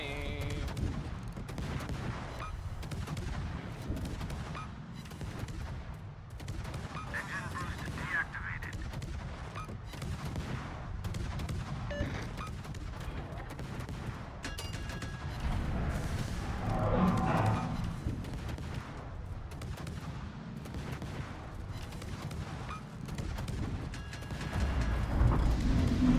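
Anti-aircraft fire from an enemy base in the game Smaland, a continuous rumbling barrage of gunfire and bursts going on for the whole stretch at steady loudness, swelling toward the end.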